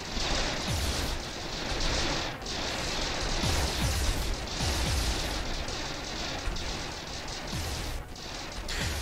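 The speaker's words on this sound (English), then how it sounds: "As the pulse cannons overwhelm different parts of his ship." Pulse cannons fire in a dense, continuous barrage during a space battle in the video game Stardrive 2, with rapid booming blasts and crashes layered loudly over a noisy combat background.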